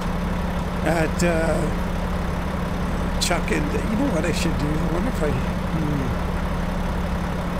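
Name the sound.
Mack truck engine running in American Truck Simulator video game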